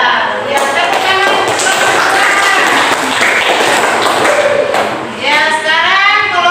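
Classroom applause from students in a junior high school lesson, loud and close, with taps and thumps mixed into the clapping and children's voices calling out near the end.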